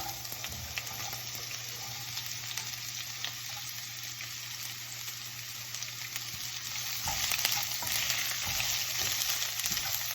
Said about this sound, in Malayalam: ഇനി ആവശ്യത്തിന് വേണ്ട സവോളയും ക്യാരറ്റും ആഡ് ചെയ്തതിന് ശേഷം നന്നായിട്ട് ഇളക്കി കൊടുക്കാം.